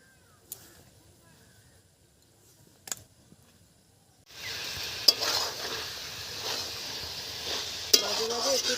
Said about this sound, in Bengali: একদিকে আমি মাংসটা আস্তে আস্তে করে কষাতে বসিয়ে দিয়েছি